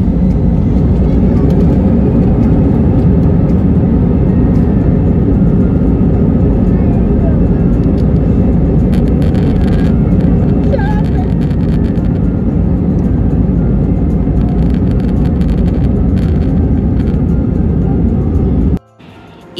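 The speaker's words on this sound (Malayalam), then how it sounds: "പിന്നെ ഇച്ച നേരം ഫ്ലൈറ്റിൽ അങ്ങനെ ഇരുന്നിട്ട് അവര് ഫ്ലൈറ്റ് എടുക്കാൻ തുടങ്ങി" A passenger airliner powers up for takeoff, heard from inside the cabin as a loud, continuous engine roar that holds steady for many seconds before cutting off abruptly.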